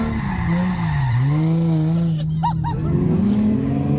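A rental drift car with a welded differential slides through tight S-turns at a drift event, its tyres squealing in a long wavering screech over the strained, revving engine, loud and close.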